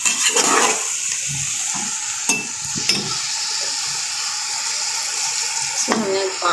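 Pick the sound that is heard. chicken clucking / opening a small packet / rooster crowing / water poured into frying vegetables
water poured into frying vegetables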